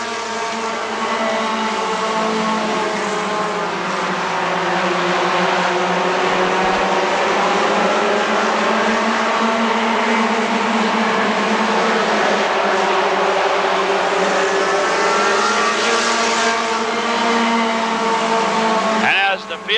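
Race cars roaring around the oval at Rockford Speedway, a dense continuous engine drone swelling and fading as the field passes, loud and steady throughout.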